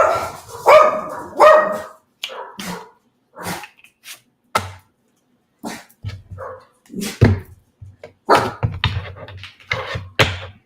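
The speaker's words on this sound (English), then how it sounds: "The neighbor dog is talking to my dog." A neighbour's dog barks at another dog in short, irregular bursts, fairly close and moderately loud, with quiet gaps between the volleys.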